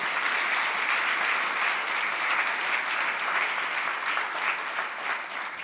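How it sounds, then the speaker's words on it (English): Audience at a live hacking talk gives a steady round of applause, a thick, even patter of many hands that tapers slightly at the end. "give him a round of applause."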